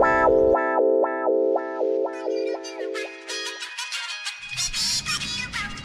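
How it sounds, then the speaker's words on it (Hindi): A synthetic phone ringtone plays a quick repeating melody of bright electronic notes, then shifts into a denser, distorted musical passage, during Holi celebrations. "ओए बाबू को फोन आ रहा है"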